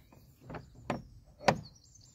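Someone tries a locked door, and three dull knocking thuds of the door rattling in its frame come at uneven intervals in a quiet room, fairly close.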